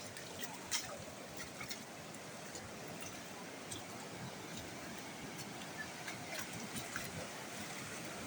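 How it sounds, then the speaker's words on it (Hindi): A fast-flowing stream in a forest at Mount Abu, a steady, even rush of water that runs without pause throughout, soft and somewhat distant, with a few faint clicks on top. "ये देख लो पानी का बहाव"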